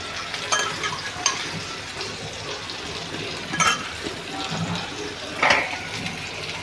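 Indian salmon (rawas) fish fries in oil in a pan, a steady close sizzle broken by occasional louder spits and stirring sounds, with no one talking.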